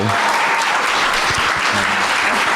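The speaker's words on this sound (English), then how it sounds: "can I have a big round of applause for Jen and Jamie?" Loud, dense audience applause for the guests at the close of a film talk event, continuous throughout.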